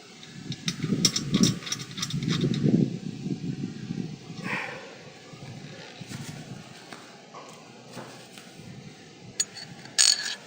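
A ratchet clicks in short bursts close by, tightening a nut on a bolt, with low rumbling handling noise and scattered metallic taps, fairly quiet overall.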